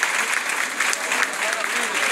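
An audience at a social dance party claps steadily for the dancers after an exhibition, a continuous wash of many hands with small swells, moderately loud and close.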